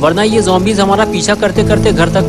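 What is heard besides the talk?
No distinct noise like a dog, phone or traffic.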